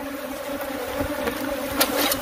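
A huge swarm of aggressive bees, hundreds of thousands strong, makes a continuous droning buzz that swells slightly near the end and is heard up close with no talking.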